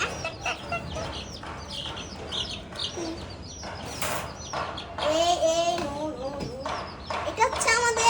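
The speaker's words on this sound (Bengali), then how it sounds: "আচ্ছা, ওরা পেপে করে ডাকতেছে, ওদের বের করি।" Newly hatched baby chicks, including a young male, peep continuously in a close, busy chorus of high chirps, with a person speaking briefly among them.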